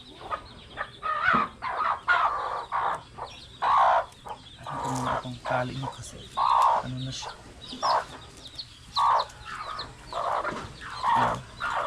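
Chickens kept on a Filipino farm cluck in repeated short bursts at close range, with a lower bird call now and then and a faint voice briefly underneath.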